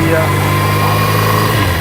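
A motorcycle engine runs steadily, loud and close, holding an even droning hum with a constant low throb for the whole stretch.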